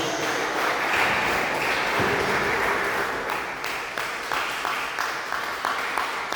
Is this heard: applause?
yes